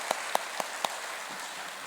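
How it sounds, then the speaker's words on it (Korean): At a wedding blessing ceremony, a few scattered, sharp hand claps of thanks for the choir ring out close by in a brief uneven burst, then quiet room tone follows. "아름다운 찬양을 함께 준비해 준 우리 천심 성가대에게 다시 한번 큰 감사의 박수"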